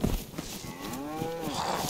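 Several cows moo in a survival video game, drawn-out lowing calls that rise and fall, overlapping over steady background game ambience, with no talking.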